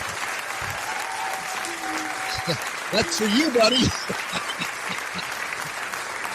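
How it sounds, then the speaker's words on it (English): Steady applause from a comedy show audience rolls on for several seconds as a performer is welcomed to the stage, with a voice speaking over the clapping. "You got your 15 seconds of applause right there."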